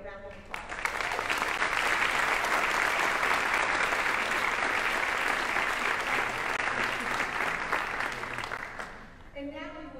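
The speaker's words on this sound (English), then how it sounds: "Please join me in a round of applause." Large convocation audience at TCU breaking into applause, a thick, steady roar of clapping that swells quickly, holds for several seconds, and fades as a speaker's voice returns.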